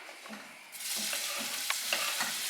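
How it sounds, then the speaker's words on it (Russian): Chopped onion poured into a heated pan with a little vegetable oil bursts into a loud sizzle and keeps frying, with a spatula stirring and scraping at intervals. "На разогретую сковороду наливаем немного растительного масла и пересыпаем лук."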